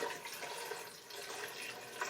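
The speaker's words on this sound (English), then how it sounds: "So now we're going to put our first water in." Water rushes from a newly assembled tap on its first run, a steady broadband hiss and splash that continues alone from start to finish.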